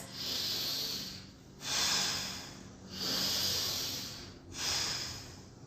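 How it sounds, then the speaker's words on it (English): Alternate nostril breathing, air drawn in through the right nostril and pushed out through the left, makes slow, close, hissing nasal breaths in a steady rhythm of about four strokes, with no talking. "We just have the alternate nostril breathing, in through the right, out through the left"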